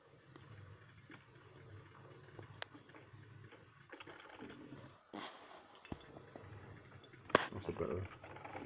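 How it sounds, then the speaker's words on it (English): A Russell Hobbs Brita filter coffee machine drips coffee into a mug, with soft, irregular liquid trickles and small drips heard close by under low background noise. "You see it dripping into the mug."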